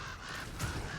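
Ravens in a video game give a few harsh, rasping caws at moderate loudness over a soft, steady game background.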